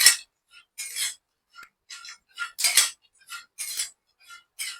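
A spoon stirs fried chilies and peanuts into a dry upma premix in a pan, producing close, irregular scraping and clinking strokes separated by brief pauses.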